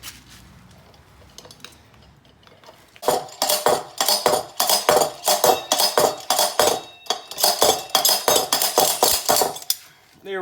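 Bushing removal tool being cranked down on a Honda Hawk 250 rear wheel sprocket carrier, a fast series of loud metallic clicks and clanks in a steady ratcheting rhythm after a quiet start.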